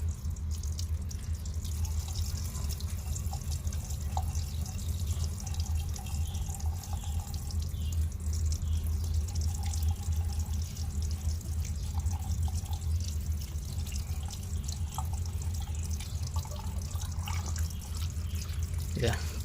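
Water is poured steadily into the priming hole of a water pump to clear an air lock, a continuous close splashing flow over a low steady hum.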